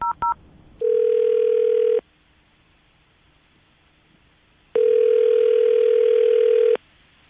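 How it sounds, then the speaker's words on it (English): A telephone dial tone sounds twice as an outgoing call is placed, each a steady, loud, flat tone lasting about a second, following a couple of brief clicks and separated by quiet line hiss. "I'm going to call her right now, get her on the phone"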